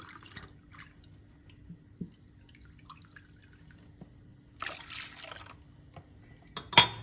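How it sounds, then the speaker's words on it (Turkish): Milk pours from a glass into cracked eggs in a mixing bowl, a short soft liquid splash for about a second amid quiet kitchen clinks and drips. "İki su bardağı süt ekleyeceğim."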